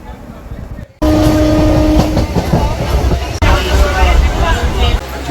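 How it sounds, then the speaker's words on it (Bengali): A local train on the Lalgola to Dum Dum line pulls away from Krishnapur station, its loud engine and wheel rumble rising steadily with rail clatter and a brief horn-like tone, while passengers chatter in the background. "আমাদের ট্রেন কৃষ্ণপুর স্টেশনে 1 মিনিট দাঁড়িয়ে আবার চলতে শুরু করলো।"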